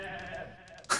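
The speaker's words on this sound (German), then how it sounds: "So, dann haben wir hier noch ein paar Ziegen" Goats bleating in a video game, with a soft tonal hum underneath and one short, louder bleat near the end.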